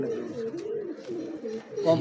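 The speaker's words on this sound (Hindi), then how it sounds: "यही कबूतर होते हैं, शाम को बैठते हैं" Teddy breed pigeons perched in the evening, cooing close by in repeated soft, throaty, rolling calls, with faint sounds in the background.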